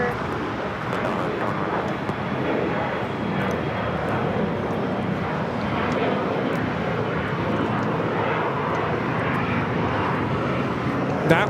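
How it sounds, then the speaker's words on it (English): An Alaska Horizon Embraer E175 jet takes off from LAX, its steady engine roar broad and sustained throughout, with faint voices under the noise. "That was Alaska Horizon 2150 taking off to San Francisco on the E175"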